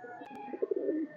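A highflyer pigeon gives a short, soft coo close by, a single throaty phrase lasting about a second.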